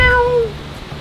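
A cat gives a single loud, close meow with a clear falling pitch, fading quickly into quiet room noise.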